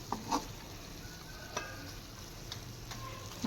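Andhra style chicken pieces fry in a pan with a soft, steady sizzle and a few light stirring clinks, quiet and close, with no talking.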